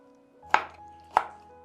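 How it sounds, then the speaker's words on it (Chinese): A knife cuts a tomato into thin slices on a cutting board, two crisp, separate knocks of the blade against the board about half a second apart in a quiet kitchen. "然后把西红柿切成薄片，"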